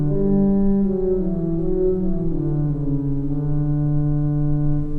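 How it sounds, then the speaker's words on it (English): Casavant pipe organ playing its 8-foot octave bass stop in a school chapel in Miami: a steady, loud, sustained low tone with rich harmonics, notes shifting slowly and held without pause. "Now we have the 8-foot octave bass."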